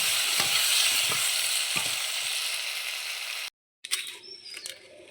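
Potatoes with turmeric fry in hot oil in a home kitchen, a steady close sizzle broken by scraping stirs, then a short gap followed by clinks and a quieter hiss.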